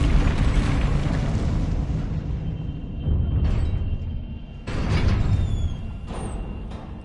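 Booming blasts from the Confringo fire spell in a Hogwarts video game, a continuous heavy roar with several sharper bursts erupting one after another, loud and close.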